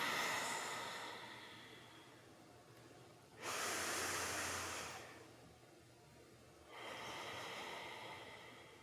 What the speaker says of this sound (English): We're breathing long and deep.